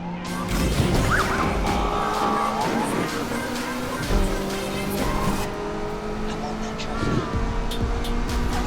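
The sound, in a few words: racing car driving in Need for Speed Unbound video game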